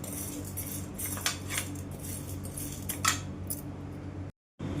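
Chana dal dry-roasting in a hot pan on a low flame gives quiet, irregular clinks and rattles of a metal spatula stirring the lentils against the pan, with a low steady hum beneath, then a brief silent gap.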